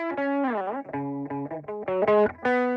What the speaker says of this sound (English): Choose an effect with output gain, distortion say, and its level influences the amp input stage.